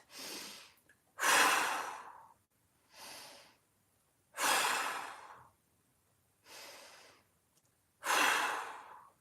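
Slow, deep breaths taken during a mobility stretching exercise, six loud airy inhales and exhales in an even rhythm, close and alone with near silence between them.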